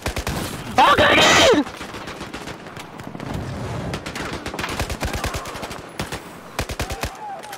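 Rapid turret gunfire in Battlefield 4, a dense burst of repeated shots near the start followed by a steady run of sharp, loud firing, with explosions and a shouting voice mixed in.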